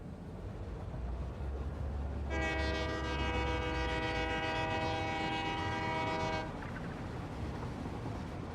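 A train horn sounds in the video game Satisfactory, one sustained chord-like blast of about four seconds over a steady low rumble of the passing train.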